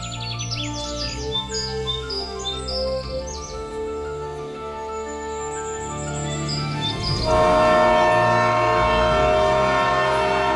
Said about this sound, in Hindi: दूसरी तरफ ट्रेन न्यूयॉर्क सिटी पहुंच जाती है।